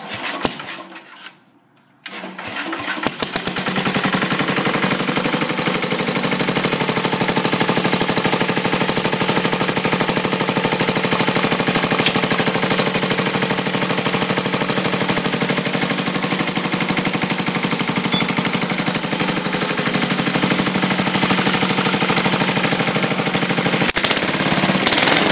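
A 1968 Sears hydrostatic garden tractor engine runs steadily with a new drive belt fitted, a loud continuous mechanical drone that starts after a short pause and holds nearly unchanged to the end.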